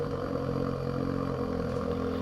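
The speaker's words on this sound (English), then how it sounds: "So this is engine sound 2." Engine of the Lizard Maverick X3 side-by-side in Farming Simulator 22 holds a steady, even idle, a continuous mid-pitched drone that stays level and close throughout, with no voices.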